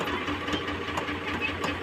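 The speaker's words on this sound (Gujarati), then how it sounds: "આમાં જે એક ટ્રેક્ટર છે એ ચાલુ છે" A tractor engine idles nearby with a steady, slightly knocking mechanical chug and a constant vibration, running alone with no talk.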